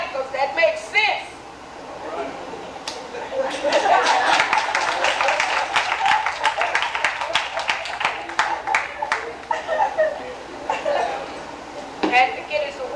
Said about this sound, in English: Y'all better clap, because that makes sense.